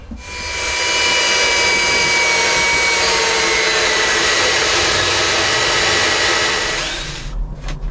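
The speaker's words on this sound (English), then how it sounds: "I'll drill a hole straight through." A power drill whines steadily at high speed for several seconds as it bores through wood, close and loud, then winds down to a stop.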